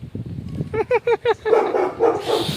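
A dog barks four times in quick, evenly spaced succession nearby, then gives softer yips and whimpering sounds.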